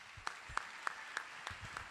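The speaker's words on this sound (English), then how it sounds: "So let's give a round of applause to Erica." A small audience applauding at a State of the City event: a brief, sparse clapping with a few distinct sharp claps spaced out in a loose rhythm, fairly quiet and close.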